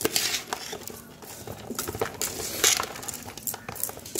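Mango pickle being stirred with salt in a large batch for a wedding crowd, giving a steady run of wet scraping and clinking strokes up close, with no talking.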